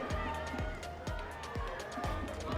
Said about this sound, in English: It's the Brighton fans you can hear at the moment with the drum in the background.